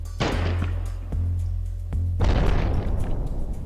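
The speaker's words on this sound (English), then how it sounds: "A delayed explosion." A mine in a video game goes off with a delayed explosion: a few low thuds followed by a louder, rumbling boom, heard alone without talk.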